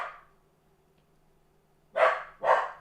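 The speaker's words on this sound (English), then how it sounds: "Maxie is barking like cray-cray over here." A small dog named Maxie gives two short, sharp barks, close and loud, after a brief faint yelp and near silence.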